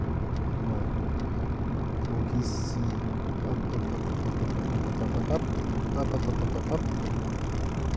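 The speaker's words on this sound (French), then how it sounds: "C'est Mercedes, quoi, le moteur." A Mercedes-Benz Citaro bus engine idles steadily and rumbles continuously in Proton Bus Simulator, with someone speaking briefly over it and faint clicks now and then.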